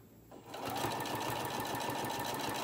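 A sewing machine stitches fabric for hot pads, starting up after a brief pause and then running in a steady, close, even hum.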